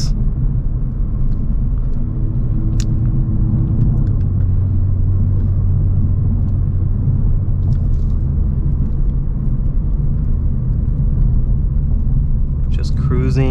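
A Kia Stinger GT2 fitted with a Borla active valve exhaust cruises in comfort mode, giving a steady low engine and road drone with a slight rise in throttle, heard from inside the cabin.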